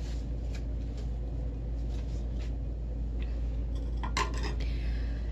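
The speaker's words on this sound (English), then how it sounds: "Now, these saucers," Gold-rimmed saucers bought at Dollar Tree are handled, and a short burst of ceramic clinks and clatter rises near the end over a steady low room hum.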